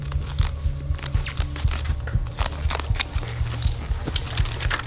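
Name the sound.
scissors cutting through a shirt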